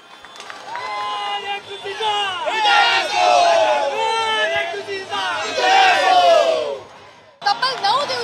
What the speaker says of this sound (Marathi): संप यशस्वी झाल्यानंतर कर्मचाऱ्यांनी एकच जल्लोष केला